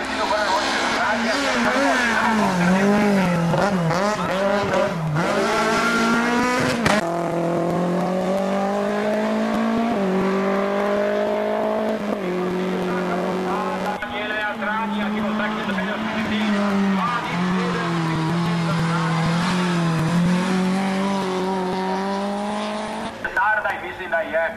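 Race car at the AK Ajdovščina hill climb accelerating hard, its engine revving up and down through gear changes, loud and sustained, with a commentator talking over it throughout.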